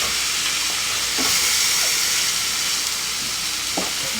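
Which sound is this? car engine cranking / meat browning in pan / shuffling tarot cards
meat browning in pan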